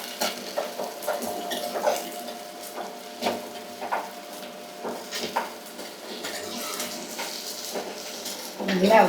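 Onion, tomato, curry leaves, fennel seeds, salt and ginger-garlic paste sautéing in a pan for a prawn curry, a light sizzle broken by repeated spoon scrapes and stirring clicks at close range.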